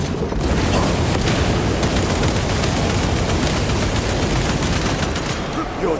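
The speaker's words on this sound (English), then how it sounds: "Throwing frag grenade." A frag grenade and gunfire in Warhammer 40,000: Space Marine 2: dense, continuous close-range firing with rapid crackling shots over a constant loud roar of battle, with no pause throughout.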